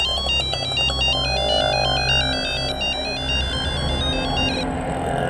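A phone ringtone plays loudly and continuously, a bright repeating electronic melody over low background rumble, with no talking.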